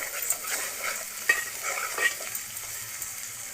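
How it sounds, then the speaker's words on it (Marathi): Coconut, onion and garam masala paste roasting in a pan with a soft, steady sizzle and repeated close scraping stir strokes, moderately quiet and without talk. "वाटप एका मस्तपैकी घेऊया भाजून सणसणीत"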